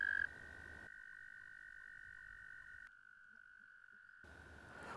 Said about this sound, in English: With a pond full of male toads, the sound can be deafening.